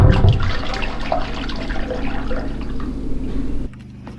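Muddy water gushes hard into a 5-gallon bucket, a loud, steady rushing fill that roars at the start, runs on evenly, then cuts off abruptly near the end.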